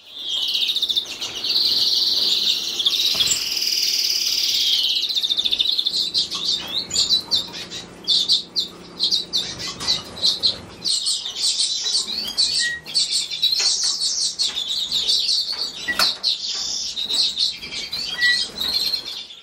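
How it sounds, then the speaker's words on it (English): Small finches chirp and twitter continuously in an indoor breeding room holding a pair of twites in a central cage, a dense, close chorus of high calls with occasional wing flutters and no speech. "We've got a pair of twites in the bird room this breeding season."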